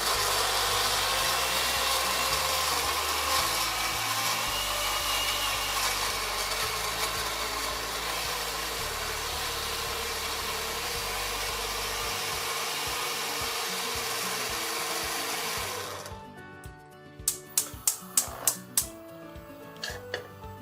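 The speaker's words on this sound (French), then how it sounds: "j'ai mis l'oignon à mixer, le poireau, la tomate, l'ail et je vais mixer le tout" A kitchen blender whirs loudly and steadily, puréeing onion, leek, tomato and garlic with cooking oil and salt, then switches off and gives several short pulsed bursts near the end.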